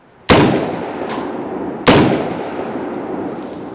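Two loud outdoor gunshots at a target range, close and sharp, each followed by a long echoing tail rolling away; the bag of explosive does not detonate.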